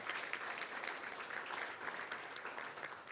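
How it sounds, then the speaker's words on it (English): Audience at a county board meeting applauds cybersecurity class students, a steady, dense round of clapping filling the room at moderate volume throughout, with no voices standing out. "Let's give them a round of applause as well."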